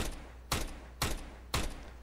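Three sharp gunshots ring out at an even half-second rhythm in CS:GO, each a loud burst over a low steady hum.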